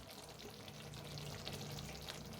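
Eggplant with turmeric, garam masala and red chilli powder stir-fries in a pan, giving a faint, steady sizzle with soft stirring.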